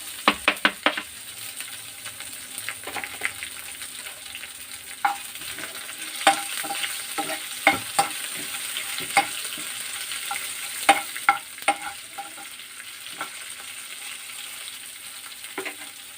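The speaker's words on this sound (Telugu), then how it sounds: "పోపులు ఎలా వేగుతున్నాయి కదా" Tempering spices with dried red chillies, chopped green chillies and curry leaves sizzling in oil, a continuous hiss punctuated by sharp crackles and spoon-stirring clicks at an irregular pace, heard close and without talk.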